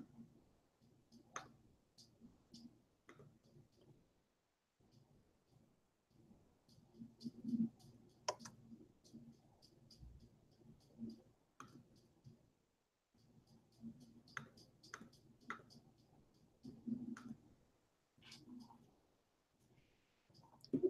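Fingers tap a computer keyboard in uneven bursts with short pauses, the clicks crisp and close, as someone switches between the Hebrew and English layouts in a quiet room.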